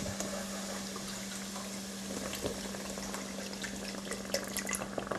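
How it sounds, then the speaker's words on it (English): Broth poured into a hot saucepan on the stove while cooking a vegetarian dish, giving a steady close hiss and bubbling sizzle that runs without a break throughout. "Going to go ahead and add some more broth to that."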